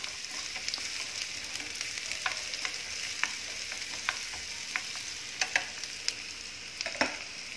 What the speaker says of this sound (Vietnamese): mình lấy cái chảo này mình xào thịt luôn cả nhà